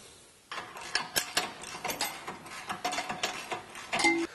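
A ratchet socket wrench tightens bolts on a Jeep JL rear bumper with tire carrier, giving quick runs of sharp clicking strokes close up, with a brief metallic clatter near the end.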